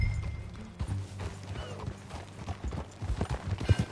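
Horse hooves clip-clop steadily in the Red Dead Redemption 2 video game, a rhythmic trot heard close and continuous over low rumbling game ambience, with no talk.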